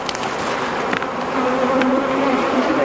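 Close, steady buzzing of many bees humming together during removal of a hive from a large log, with a few brief louder passes from individual insects.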